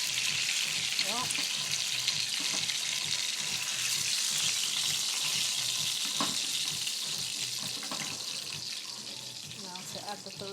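Pork chops fry in a pan over a low flame, a soft continuous sizzle and crackle with occasional utensil clinks and faint background voices.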